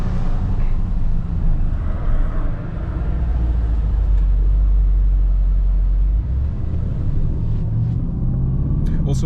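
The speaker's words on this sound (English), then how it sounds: "Plus we are in Sport Plus, so the exhaust is full open." A 2025 Aston Martin Vantage with the exhaust fully open in Sport Plus mode, driving around the Monaco F1 track, giving a deep, loud, steady rumble that swells midway, with people talking over it.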